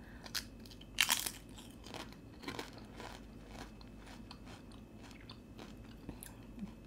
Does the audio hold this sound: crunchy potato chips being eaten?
yes